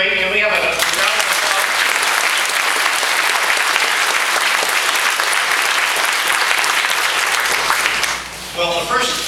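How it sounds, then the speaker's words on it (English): A crowd at a UFO festival gives a loud, sustained round of applause lasting several seconds, a dense roar of clapping that tapers off at the end as a voice begins to speak. "Can we have a round of applause?"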